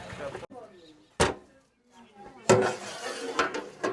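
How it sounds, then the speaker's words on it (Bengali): A large biryani cooking pot is opened with a few sharp metallic clanks and scrapes of the lid, close by, while people talk around it. "এই খুলে গেল বিরিয়ানির হাঁড়ি নাকি?"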